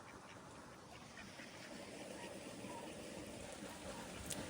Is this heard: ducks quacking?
yes